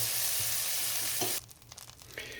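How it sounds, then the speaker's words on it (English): Butter sizzles and fries in a pan on a flame thrower grill, a steady close hiss that stops abruptly partway through, followed by quieter clicks and small scraping sounds. "throw some butter in a grill"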